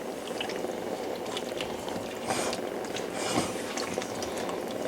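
Chicken paprikash simmers in water in a pot on the stove, giving a steady close bubbling and gentle liquid churn with faint clinks, continuous and moderately quiet throughout.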